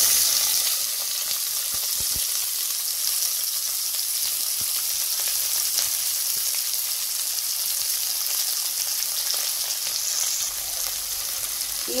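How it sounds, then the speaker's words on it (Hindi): Sliced onions, medium-sized and cut long, fry in hot oil with cumin seeds for rajma, giving a steady, even sizzle throughout with occasional small crackles and no voices. "अब मैं डालूंगी इसमें मीडियम साइज की 5-6 लंबी कटी हुई प्याज,"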